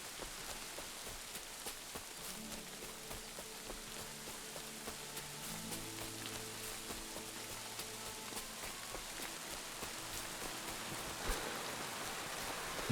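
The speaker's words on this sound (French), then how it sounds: "Ah, il pleut." Rain in the medieval game Kingdom Come: Deliverance, a soft continuous patter of drops on surfaces, faint and even throughout, with a muted low tonal layer underneath and no talk.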